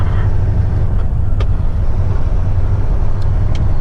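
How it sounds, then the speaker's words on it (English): A heavy haul truck engine runs with a loud, steady low rumble, continuous and close, with no talking. "Now I want to show you how the truck sounds now."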